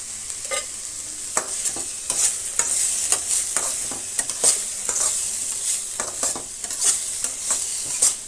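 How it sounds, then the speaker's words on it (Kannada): Onions frying with salt in a pan for a masala egg omelette, a steady soft sizzle broken by repeated sharp scraping stirs of a spatula, close and with no voices. "ಈರುಳ್ಳಿಗೆ ತಕ್ಕಷ್ಟು ಉಪ್ಪನ್ನು ಸೇರಿಸಿ ನಾವು ಫ್ರೈ ಮಾಡ್ಕೊಳ್ಳೋಣ."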